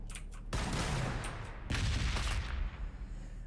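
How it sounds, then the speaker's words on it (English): A frag launcher firing in the Warhammer 40,000: Battlesector video game, heard as two loud bursts of rattling explosive blasts, each lasting about a second, with a short gap between them. "Shall we try and see what the frag launcher does?"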